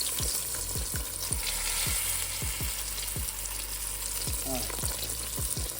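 Chicken frying in hot oil for chicken fried chicken: a steady loud sizzle and crackle fills the whole stretch, with a few low thumps, and a brief spoken remark.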